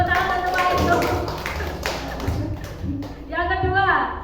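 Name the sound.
audience clapping for a teacher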